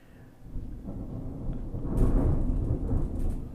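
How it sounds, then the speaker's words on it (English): Distant thunder, a low rolling rumble that swells midway and slowly fades, heard alone without speech. "Yeah, you can probably hear that. A little bit of thunder there."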